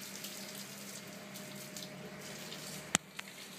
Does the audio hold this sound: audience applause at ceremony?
no